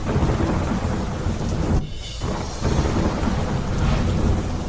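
Heavy monsoon rain pours in Harij, Gujarat, a dense, loud, continuous roar with a brief dip midway and low rumbling underneath, with no voices.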